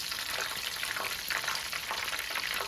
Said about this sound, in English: We want to cook the egg rolls for 2 to 3 minutes.